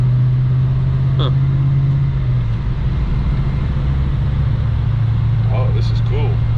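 A supercharged custom car from Street Metal Concepts is being driven, its engine a steady, loud low drone with a slight shift in pitch partway through, and brief voices near the end.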